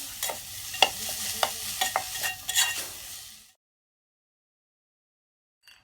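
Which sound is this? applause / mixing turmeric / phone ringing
mixing turmeric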